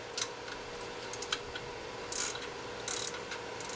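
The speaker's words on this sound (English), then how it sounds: "Let's get a socket and just loosen that up." A socket ratchet wrench loosens a bolt with a run of light, uneven clicks and two short bursts of rapid ratcheting, heard up close with no talking.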